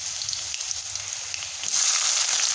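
Mustard seeds sizzling in hot oil, a bright crackling hiss with scattered small pops that grows louder near the end, close by and with no talking.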